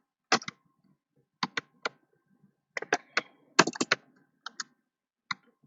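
Code is typed on a computer keyboard in a programming session, sparse bursts of crisp key clicks in small clusters separated by short pauses, close and quiet with no talk.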